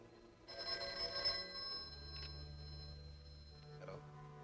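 A telephone bell rings in a loud burst near the start, then a low steady hum continues with a brief second ring toward the end, in a 1949 movie serial.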